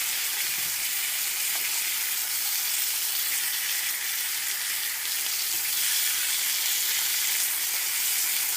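Pork chops sizzle loudly in a hot pan, a steady, dense crackling hiss that runs unbroken and close, with no voices over it.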